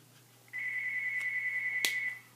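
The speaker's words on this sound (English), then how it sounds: "My phone is ringing." A phone rings in one steady electronic tone that starts suddenly, holds for about a second and a half over a low background hum, and is cut briefly by a sharp click near the end.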